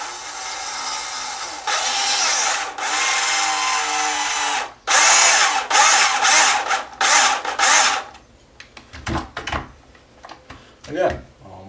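A power drill drives screws into a tricopter frame, running in several loud sustained whirring bursts with brief pauses and quick stop-start pulses near the end.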